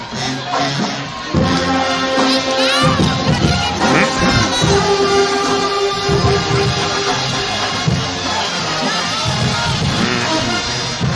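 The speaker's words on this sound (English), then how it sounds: "Let's give another round of applause to our sophomore Apache cheerleaders" A crowd at a Tyler JC versus Kilgore College football game cheers and shouts loudly for the sophomore Apache cheerleaders, a sustained roar of yells with shrill voices and music-like tones riding over it.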